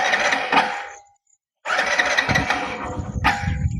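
A Hero Glamour motorcycle engine cranks and sputters in two rough bursts separated by a short silence, never catching into a steady idle.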